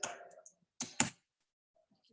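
A few quick keyboard clicks, close and quiet, come in two short bursts with silence between them in a quiet room.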